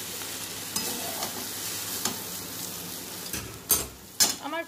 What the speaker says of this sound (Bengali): এই পর্যায়ে আমি গরম মশলা গুঁড়ো এবং কিশমিশটা দিয়ে দিচ্ছি, মিশিয়ে নেব।